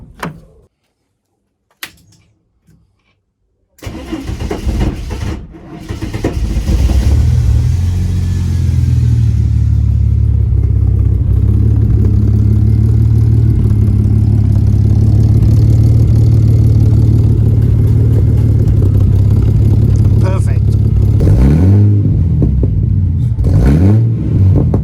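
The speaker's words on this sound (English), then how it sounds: "let's start up the car and hear how it sounds." An inline six-cylinder Mercedes with a custom exhaust cranks after a few faint clicks and a door thunk, catches with a brief rev, then settles into a steady, deep idle, close and loud with a slight rev near the end.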